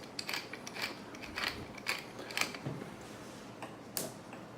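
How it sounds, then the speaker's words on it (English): A coarse-set pepper mill grinds peppercorns in a series of quiet, irregular ratcheting crunches and creaks, a handful of short gritty twists spread across a few seconds. "we've set the pepper mill to be a little bit coarser because this dish is all about cacio e pepe"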